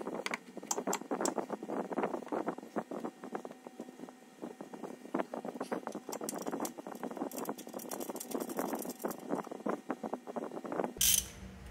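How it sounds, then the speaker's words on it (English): Ratchet wrench fastening the middle drive shaft bracket bolt on a Range Rover Sport or LR3 during rear drive shaft replacement, a dense run of rapid clicking strokes close by, ending with a brief clunk. "Here I'm again fastening the middle bracket first, just one bolt."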